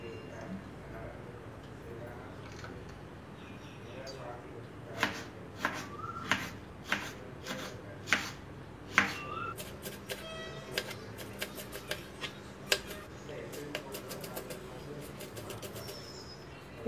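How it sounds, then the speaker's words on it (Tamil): Capsicum being finely chopped with a knife on a board gives a run of sharp, irregular taps that starts partway through and continues, close and fairly faint. "அதுவும் பொடி பொடியாக கட் பண்ணிக்கலாம்."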